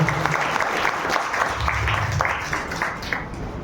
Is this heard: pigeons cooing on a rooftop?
no